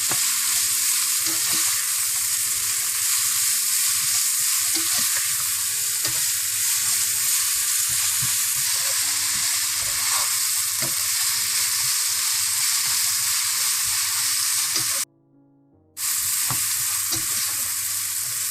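Vegetables stir-frying in a pan for Hakka noodles, a steady loud sizzle with scraping stirs throughout, cut by a brief near-silent gap late on.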